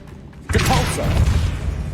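A Depulso spell cast in Hogwarts Legacy: a sudden whooshing blast with a thumping impact and rattling, mechanical debris, loud and close, tailing into a lingering rumble.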